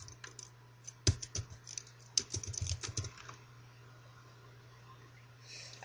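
Keys on a computer keyboard clatter in a short flurry of light taps and clicks while a recipient's name is typed, then the room falls quiet over a low steady hum.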